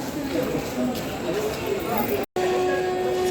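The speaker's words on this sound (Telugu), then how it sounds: "అదే పావుగంట ఆలస్యంగా మన ట్రైన్ చీరాల నుంచి కూడా బయలుదేరిపోయింది" The Pinakini superfast express pulls out of Chirala station with a steady rumble and rattle of rail cars from inside the train, and a person talks over it.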